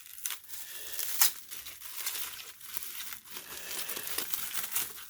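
Crinkling and tearing of plastic packaging being unwrapped from a used, open-box Samsung Galaxy Note10 phone, a steady close rustle with a few sharper crackles and rips throughout, no talking.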